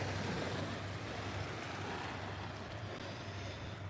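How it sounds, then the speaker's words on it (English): Waves wash steadily onto a lake beach at Boulder Beach, a constant close rushing roar mixed with wind buffeting the microphone, with no distinct breaks standing out. "I don't know if you can hear me over these waves."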